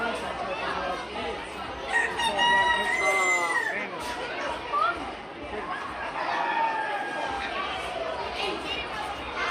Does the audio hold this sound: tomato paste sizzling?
no